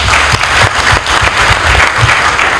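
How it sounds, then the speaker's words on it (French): Applause from an audience at a political opposition presentation, a dense, loud burst of many hands clapping at close range, continuous for a couple of seconds. "J'applaudis pour vous"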